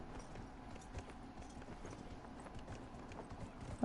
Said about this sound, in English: Stupid horse, stop doing that. Just walk. Or trot, that works too.